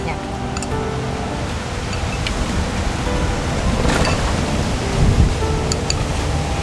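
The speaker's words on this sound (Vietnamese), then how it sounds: "Ô, mưa tới." Rain begins falling outdoors, a steady broad hiss of drops with a few scattered patters, moderately loud and continuous throughout, with no voices.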